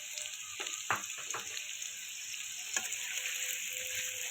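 Onions, green chillies and curry leaves frying in a pan for an egg, brinjal and potato curry, a continuous bright sizzle broken by a few sharp spatula scrapes and clinks.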